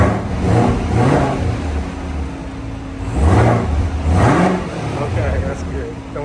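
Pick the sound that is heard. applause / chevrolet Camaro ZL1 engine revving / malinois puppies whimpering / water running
chevrolet Camaro ZL1 engine revving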